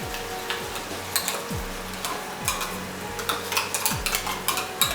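Prepared paste being stirred into paneer and tomato in a pan over a raised flame, with rhythmic scraping and light clinks of a spoon against the metal over a faint sizzle.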